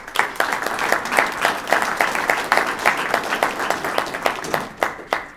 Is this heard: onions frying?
no